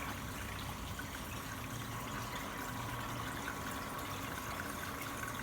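A gold cleanup sluice is fed slowly from an eroding hopper, giving a faint, steady, even trickle of water with no pauses.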